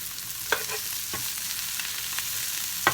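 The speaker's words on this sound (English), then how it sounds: "we're going to saute these off down a bit first" Food sautés in a pan with leftover fat from cooking sweet potato hash, making a steady faint sizzle. Several sharp scrapes and stirs of a utensil punctuate the sizzle, and nobody speaks.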